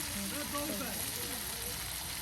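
Curry sizzles steadily in a hot pan as garam masala goes in during Eid cooking on a Bangladeshi boat, a soft, even crackle with a voice talking over it.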